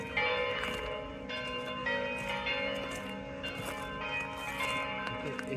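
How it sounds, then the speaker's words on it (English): Bells of two churches in Croatia ring together, one close and another farther off, a steady dense peal of overlapping clangs and ringing tones that carries on without pause and without voices. "both church from left to right are ringing their bells"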